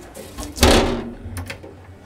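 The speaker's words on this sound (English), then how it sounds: "These drawers do have twist lock and full length slides, fully lined, again, nice and quiet for an aluminum boat." A fully lined drawer with a twist lock and full-length slides on a 2021 Extreme 915 Game King 30-foot aluminum boat makes one soft, muffled slide and thump, close by, followed by quiet faint rustling.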